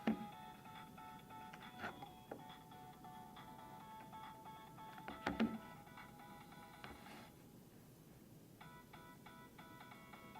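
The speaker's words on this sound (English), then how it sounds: "Can you hear the ringing of the phone?" A phone rings inside a sealed bell jar with its air partly pumped out; a faint, muffled electronic ringtone repeats in short patterned bursts, punctuated by a few louder knocks and clunks.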